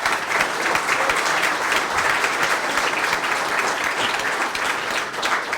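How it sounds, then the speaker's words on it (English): Steady, loud applause from a courthouse Law Day audience, a dense even clatter of many hands clapping that carries on without pause, with a few faint voices mixed in. "So, a round of applause for all the,"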